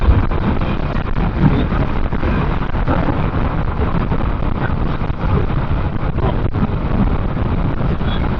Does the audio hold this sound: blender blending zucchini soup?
no